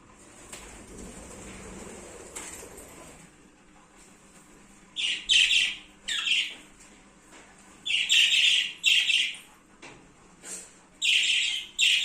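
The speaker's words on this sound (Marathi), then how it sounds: "आमच्या श्रीकडे पक्षी आहेत त्यांनी आता त्यांना त्यांना सोडलंय" Pet birds let loose from their cages call in sharp, squawking bursts, repeated in irregular clusters after a quieter stretch, fairly close and loud against low background noise.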